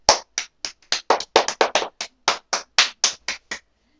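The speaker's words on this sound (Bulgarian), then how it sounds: "Аплодисменти!" Several people clapping hands in a room after a playful home stunt with a man in a gorilla costume, a short burst of about sixteen sharp, separate claps over a few seconds, fairly close and loud, with no talking.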